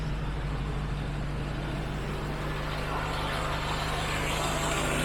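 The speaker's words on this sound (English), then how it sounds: "This thing does have a lovely exhaust sound." A Morris 1300 engine idles steadily with a low, even exhaust burble and a constant hum, close and continuous with no talking.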